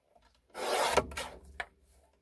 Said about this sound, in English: So we're going to trim it down. Trim it down so it's a little skinnier.